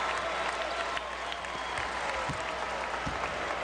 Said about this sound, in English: Tyler Smith gets a nice hand from the crowd as he makes an exit